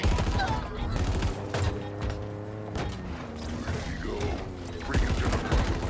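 Gunfire in Halo rattles in fast overlapping bursts amid vehicle engine drone and mechanical clatter, loud and busy throughout, with voices talking over the action.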